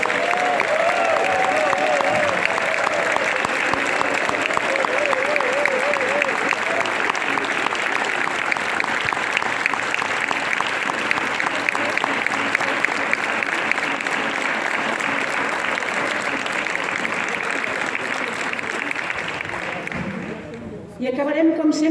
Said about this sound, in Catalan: També volem acomiadar-nos fent un aplaudiment molt i molt i molt gros a tots aquests magnífics músics